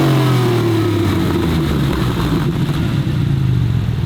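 A Porsche engine revs loudly through aftermarket exhausts, a steady close-up roar whose pitch sweeps downward as the revs fall, with no talk over it.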